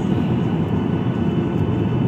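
A Ryanair passenger plane taxis slowly before takeoff from Malta, a steady low cabin rumble and engine hum filling the space evenly, loud and continuous with no speech.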